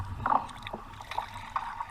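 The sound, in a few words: canoe paddling on water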